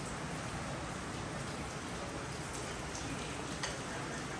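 Rain falls during a typhoon, a steady, fairly quiet broadband hiss of drops on surfaces with occasional faint ticks, continuous and without speech.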